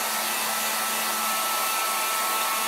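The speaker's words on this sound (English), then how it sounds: "Hope you can hear me over this dryer." A hair dryer blows steadily to dry a wooden craft block, a loud, even, close-up whoosh with a faint motor hum underneath, unbroken from start to finish.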